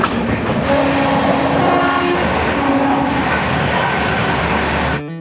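A train passing along platform 3 at Santragachi station, on the Howrah–Kharagpur line, gives a loud, steady, close roar of rolling wheels and rattling coaches, with a faint horn-like tone running beneath, until it cuts off abruptly at the end.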